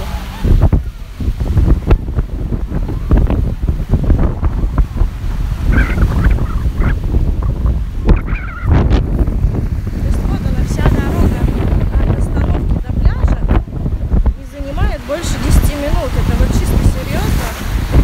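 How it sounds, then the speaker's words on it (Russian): Sea waves slap and rush around a small boat in strong wind, with continuous buffeting wind noise on the microphone and people talking at times over the rough water. "Это какие волны."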